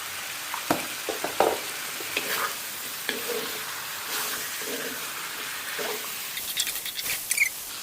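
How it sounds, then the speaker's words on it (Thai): Duck meat stir-fried in oil for a Chinese-style braised duck: a continuous close sizzle with irregular spatula scrapes and soft patters throughout, no voices. "ผัดสักพักหนึ่งให้เนื้อมันโดนน้ำมันหน่อย เนื้อของเราจะมีกลิ่นคาวลดลง"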